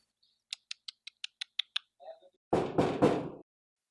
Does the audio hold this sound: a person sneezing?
no